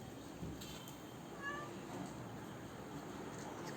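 A house cat meowing indoors, one faint, short, rising meow heard once against a quiet room background.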